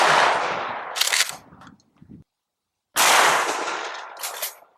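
Two loud, close 12 gauge shotgun blasts firing buckshot at a target 10 yards away, each sharp crack trailing into a decaying echo, with brief clanks and a quiet gap between the shots.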